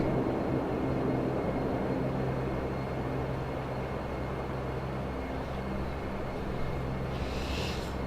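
In a flight simulator, Dash 8 turboprop engines add a little thrust for taxiing at London City. A steady, dense engine drone holds at an even level throughout, with no voices.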